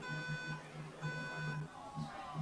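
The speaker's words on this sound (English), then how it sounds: "they've got a fire alarm going." A fire alarm sounding at an event, repeated electronic beeping tones pulsing in short bursts at moderate distance, with faint crowd noise beneath.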